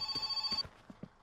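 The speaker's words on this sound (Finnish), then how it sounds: "Soi puhelinkin" A telephone rings in the video game My Summer Car, a faint electronic bell trill lasting about half a second, followed by a few soft low knocks and thumps.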